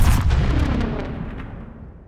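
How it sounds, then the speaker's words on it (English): A layered sci-fi explosion sweetener built for a space mining action game: a heavy booming blast with crackling bursts that rolls off and decays smoothly over about two seconds, alone. "you end up with some really nice sweeteners that will fit sci-fi explosions pretty well"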